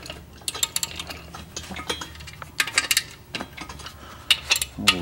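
A ratchet loosens the main cap bolts on a 1.3L Suzuki Samurai engine being rebuilt, sounding as irregular metallic clicks and clanks up close, with short bursts of ratcheting and tool knocks.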